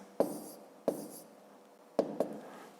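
Pen strokes on paper during a fifth-grade maths exercise, four short scratchy marks in two pairs, quiet and close with soft pauses between.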